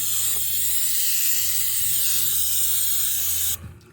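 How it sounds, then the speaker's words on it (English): Aircraft paint stripper sprayed thickly onto the fuel tank of a 1957 Kenworth truck, a loud steady aerosol hiss running without a break before cutting off abruptly near the end. "trying to spray this on nice and thick so I get all that goodness"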